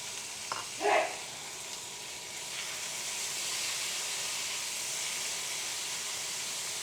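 Sliced beef frying in olive oil in a pan, a steady bright sizzle that swells after the meat goes in, with a brief clatter near the start and the hiss continuing evenly to the end.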